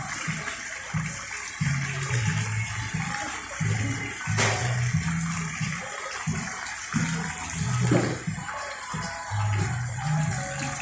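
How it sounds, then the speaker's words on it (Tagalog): Splashing water from a fountain at the Manila Hotel pours in a steady broadband wash. A faint voice murmurs beneath it, with a sharp clack near the middle. "Fountain."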